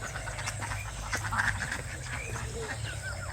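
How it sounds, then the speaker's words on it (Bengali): Ducks on a village pond in the morning, quacking faintly and intermittently at a distance over low outdoor background noise. "সকালবেলা হাঁস পড়েছে"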